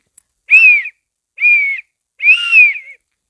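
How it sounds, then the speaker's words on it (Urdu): A police whistle, a story sound effect in a children's tale about a stubborn goat on a bus, blows three shrill, close blasts with short gaps between them and no talk. "پولیس والے نے سیٹی بجائی"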